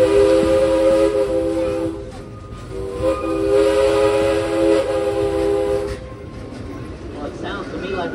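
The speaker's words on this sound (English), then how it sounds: "I love the sound of that whistle" Whistle of the Frisco Silver Dollar Line #504 steam train, a loud, sustained multi-tone blast sounding twice with a short gap, over a rumbling, hissing train and crowd noise.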